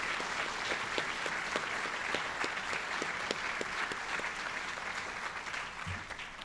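An audience claps for cadets at a wreath-laying ceremony for President Nixon's 105th birthday at the Richard Nixon Presidential Library, sustained, even applause from a moderate crowd without voices.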